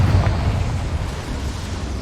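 A Confringo spell explosion in Hogwarts Legacy erupts as a dense, rumbling blast that stays loud and roiling for a couple of seconds.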